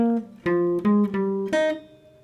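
Jazz guitar playing a short improvised phrase, a few clear single notes plucked in quick succession and left ringing out, close and alone.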